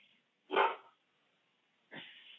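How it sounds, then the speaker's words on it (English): A dog gives two short barks a second or so apart, somewhat distant and muffled, with quiet in between. "Excuse my dog, Thor."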